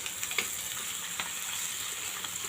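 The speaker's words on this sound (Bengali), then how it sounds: "তো পেঁয়াজগুলো ভাজা হয়ে গেছে" Onions frying in a pan: a continuous, even crackling sizzle with scattered small pops, heard close up and alone.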